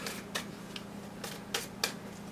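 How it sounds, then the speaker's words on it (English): Tarot cards from a Tattoo Tarot deck being shuffled: soft, faint riffling bursts recurring irregularly over a low steady hum, no talking. "I am shuffling away at the Tattoo Tarot for your spread."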